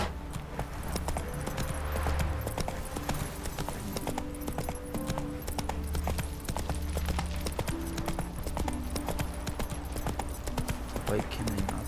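Horse hooves clip-clopping in The Witcher 3, a steady rhythmic trot running under game music and ambience, with a person talking over it.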